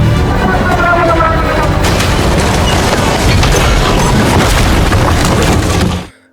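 Cannonballs thrown by hand explode in a One Piece animated film, a dense barrage of booms and cracks, loud and continuous, cutting off abruptly at the end.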